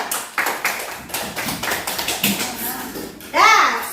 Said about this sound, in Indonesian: Tepuk tangan untuk kelompok Mabel.